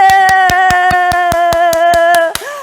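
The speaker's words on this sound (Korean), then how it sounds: "선물 박수!" Rhythmic hand clapping at an even beat, about twelve sharp claps over a held electronic tone at a children's event, ending with a short sliding tone.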